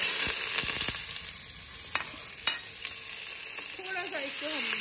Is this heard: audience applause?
no